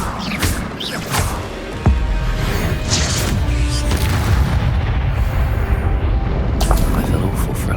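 Bombarda and Confringo spells blasting in the video game Hogwarts Legacy, a sharp impact near two seconds followed by continuous heavy rumbling booms and crackling debris, loud and dense throughout, with a voice calling out over the din.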